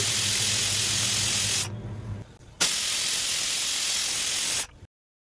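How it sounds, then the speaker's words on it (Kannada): A pressure cooker on a gas stove cooking peeled field beans vents in a loud, steady steam hiss, breaking off briefly before a second sharp burst that holds for about two seconds and then cuts out abruptly. "ಕುಕ್ಕರ್ ಎರಡು ವಿಜಲ್ ಬರೋ ತನಕ ಈ ಒಂದು ಹಿತ್ತಿಕ್ಕಿದ ಅವರೆಕಾಳನ್ನು ಬೇಯಿಸ್ಕೊಳ್ಬೇಕಾಗುತ್ತೆ"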